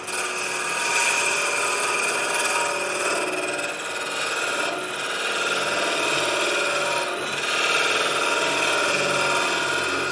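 A stabilized wood and Fordite ring spins on a lathe while a cutting tool removes material, giving a continuous, close, steady whirring scrape with slight swells in loudness.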